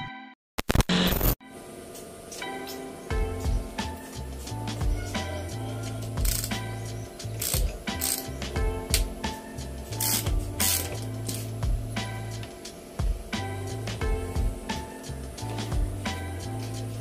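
Front shock alloy extension being bolted onto a Raider 150 motorcycle, with repeated ratchet clicks and metallic tool sounds close by, a sharp clatter near the start, and no talking.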